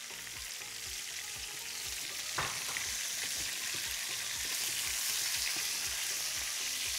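Chicken pieces frying in hot fat for a dish of chicken with caramelized onions: a loud, steady crackling sizzle that never lets up, with one brief clatter partway through.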